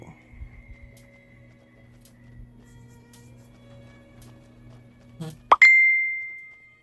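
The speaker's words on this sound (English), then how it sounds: "Ah, I forgot to turn the volume off on my phone." A phone notification chime goes off near the end, a short plopping blip followed by a clear ringing ding that slowly fades, over a quiet low hum.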